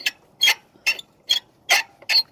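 A ratchet loosens a bolt on the EGR valve of a 2003-2011 Lincoln Town Car, giving six evenly spaced, crisp clicks at close range in a quiet setting.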